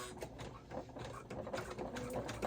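Embroidery machine stitching an appliqué design in a hoop bag, a steady, fairly quiet mechanical chatter of rapid needle strokes continuing throughout without talk.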